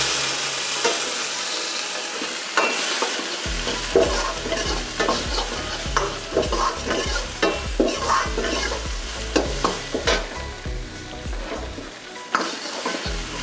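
Tomatoes frying in a pan for dal makhani, with a loud, close sizzle and repeated rhythmic scraping and clanking as a spoon stirs them.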